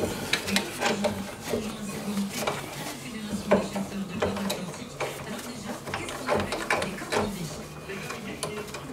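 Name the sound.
ratchet socket wrench loosening brake bolts on Peugeot 308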